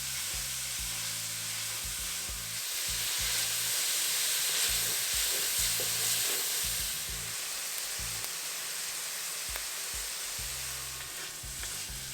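Onions sauteing for an Indian bhindi masala gravy sizzle steadily in a pan, a continuous frying hiss broken by repeated low scraping strokes of stirring throughout.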